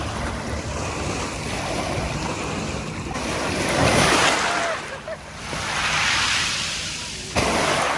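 Sea surf rolling onto the beach at Batumi, Georgia, a steady loud wash of breaking waves with wind buffeting the microphone, swelling around the middle and again near the end.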